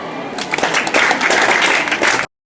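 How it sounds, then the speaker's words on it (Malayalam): Audience applause for a teacher and his helpers at a school event, a dense steady clatter of many hands lasting about two seconds and then cutting off abruptly into silence. "ഒരു കയ്യടി ഉണ്ടാകും"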